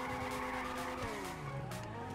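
A car drifts in the GTA 5 video game, its tires squealing in a long sustained skid over a droning engine, loud and close throughout.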